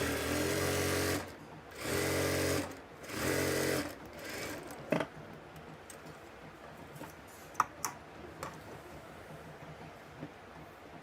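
A sewing machine stitches the side seams of a kameez in three short, loud bursts at close range. Scattered handling clicks and fabric rustles follow in near quiet.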